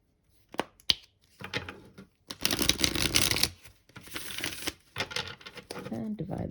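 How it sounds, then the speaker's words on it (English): Crisp riffling and flapping of tarot cards in several bursts, close up and fairly loud, with a few sharp taps between and no talking. "we'll do one final shuffle"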